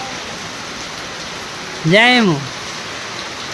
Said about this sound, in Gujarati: બહુ જ પવન આવ્યો, પવન ને વરસાદ બધે ચાલુ છે.